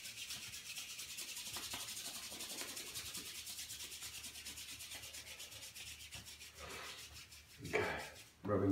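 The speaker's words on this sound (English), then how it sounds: "Rubbing the hands together." Hands rub together in a steady dry swishing stroke, repeated continuously and close up, with a louder burst of friction near the end.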